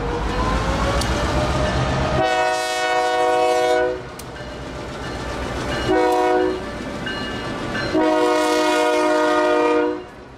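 Freight train on the Florida Central main line, passing at speed with rumbling wheels while its horn blows in three long, loud blasts separated by short gaps, close and dominant.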